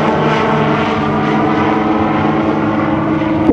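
A gyrocopter in flight with its rotor turning in the wind during a demonstration flight, heard as a loud, steady droning engine and rotor hum, close and continuous throughout.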